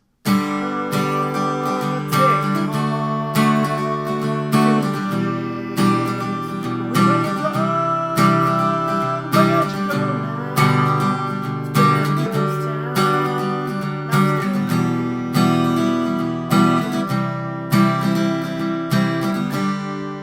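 Acoustic guitar strums the chorus chords of a song in a steady rhythmic pattern, close and clear, with regular chord changes and no voices.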